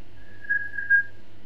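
A single faint, wavering whistle tone, caught on a paranormal livecast, holds steady for about a second with slight dips and rises, heard alone against a quiet background.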